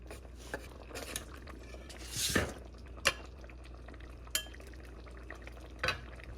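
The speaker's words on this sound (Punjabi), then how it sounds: "ਹੁਣ ਇਹਨੂੰ ਆਪਾਂ ਸਰਵ ਕਰਨ ਦੇ ਲਈ ਬੋਲ ਚ ਪਾ ਲੈਂਦੇ ਆ" A ladle scrapes and clinks against a pot and serving bowl while palak paneer curry is scooped out. Faint, close metallic taps and a wet, sloppy pour come at irregular intervals over quiet kitchen background.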